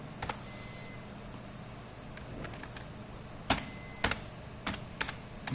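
Close computer keyboard typing while entering HTML code, with a few scattered keystrokes and then sharper clusters of taps over a steady low room hum.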